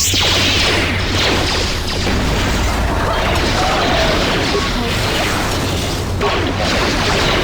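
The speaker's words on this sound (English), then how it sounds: "Do I have an ion grenade? I do. Opening attack, launch." An ion grenade in Star Wars: Knights of the Old Republic 2 is thrown and bursts, giving a dense, loud wash of crackling electrical noise and booms that holds steady for several seconds.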